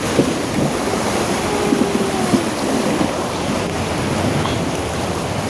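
Rain floodwater on a road in Ponnur surges and splashes against the side of a bus, a constant rushing wash mixed with wind buffeting on the microphone and no speech.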